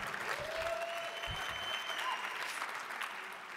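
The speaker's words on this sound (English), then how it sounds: "We applaud them." Steady audience applause fills the whole stretch, a dense wash of many hands clapping at a reform conference talk on substance abuse, with no voices over it.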